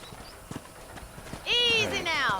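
A horse in the Red Dead Redemption video game, hooves clip-clopping softly on a ranch before a loud whinny near the end, with speech around it.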